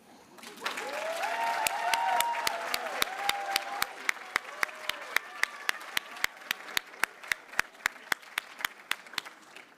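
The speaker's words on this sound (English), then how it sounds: "giving a round of applause back to those people who love you" A White Coat Ceremony class gives a sustained round of applause, dense crowd clapping that swells early and then thins into scattered, sharp individual claps with faint tonal sounds over it early on.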